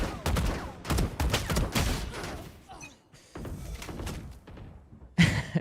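Rapid gunfire bursts from the video game Valorant crack out loud and close in repeated volleys, pause briefly, then resume, with a voice faintly underneath.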